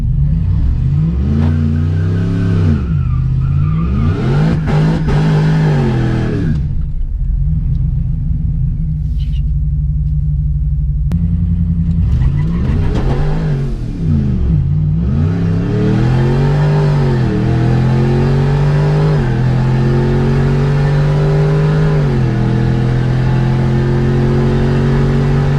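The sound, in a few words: supercharged RAM 1500 truck accelerating on a quarter-mile run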